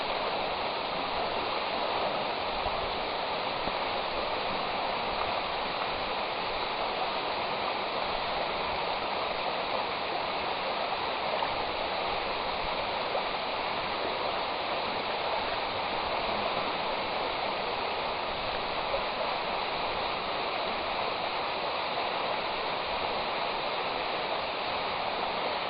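A stream flowing down toward the sea sends out a steady, dense rush of water that keeps up unbroken at an even loudness throughout, with no voices.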